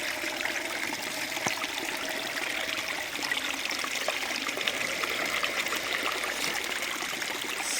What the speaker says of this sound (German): Und jetzt noch Wasserfall.